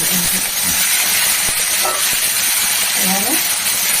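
Loud, constant sizzling hiss of potatoes frying in hot oil, with faint clinks and soft voices underneath.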